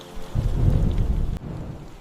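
Heavy pouring rain hisses under a deep, rolling rumble of thunder during a storm, loud and close, the low roar swelling then cutting off abruptly.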